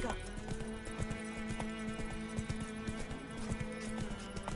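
Roach, the horse in The Witcher 3: Wild Hunt, moving on hooves in a steady, evenly spaced clip-clop beneath continuous music and a talking voice.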